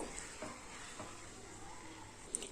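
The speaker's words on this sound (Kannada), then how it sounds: "ಇದರಲ್ಲಿರುವಂತಹ ಇಂಗ್ರೀಡಿಯೆಂಟ್ಸ್ ಹಸಿ ವಾಸನೆ ಹೋಗೋವರೆಗೂ ಚೆನ್ನಾಗಿ ಫ್ರೈ ಮಾಡ್ಕೊಳ್ಳಿ" Masala ingredients frying in oil in a pan for baby corn manchurian; a faint, continuous sizzle with soft stirring scrapes and a small clink near the end.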